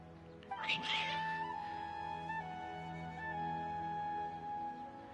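Cats meow in Genshin Impact, a loud rising cry near the start followed by a sustained tonal whine that lingers over a steady game music bed, with no talking.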